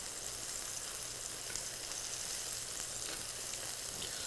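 Pork chops sizzle steadily in a hot cast iron pan, a continuous crackling hiss heard up close and unbroken, with no talking.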